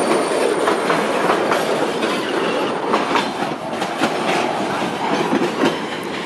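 A freight train with empty wagons, hauled by an ES43 BBi locomotive in northern Paraná, Brazil, rolls past at speed with steady loud rumbling, rhythmic clickety-clack of wheels over rail joints and occasional metallic squeals.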